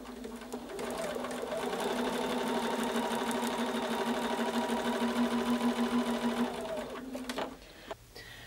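A sewing machine runs a steady, continuous seam on a windmill quilt block with the polka-dot fabric facing up, its even motor hum and needle chatter close and loud for several seconds before it stops.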